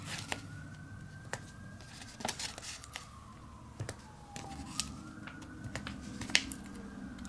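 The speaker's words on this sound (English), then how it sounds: "there's a fire truck that just went by my house" A fire truck siren wails in the distance, its pitch sliding down and back up as it passes, with sharp clicks and small noises scattered over a quiet background.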